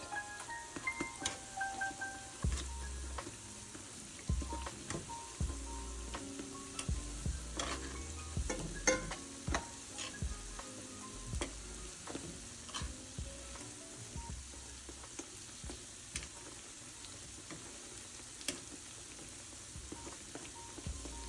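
Jamaican festival dough frying in a pan until golden brown, a quiet continuous sizzle with scattered bubbling pops and light clinks, close by, no one speaking.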